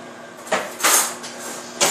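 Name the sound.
getting a fork from a drawer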